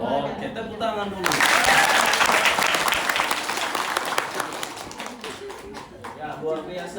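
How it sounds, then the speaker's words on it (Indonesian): Audience applause bursts in loudly after a brief lead-in and continues steadily as dense clapping that slowly thins out, with a few voices mixed in. "tepuk tangan dulu"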